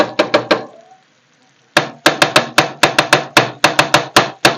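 Chicken liver is chopped rapidly on a tawa with a metal blade, giving sharp, loud, close clacks in quick rhythmic bursts, a brief pause, then a long steady run of strikes.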